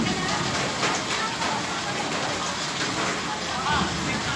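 Heavy rain pours steadily during a flood in the Philippines, a dense, continuous hiss filling the scene while people talk over it.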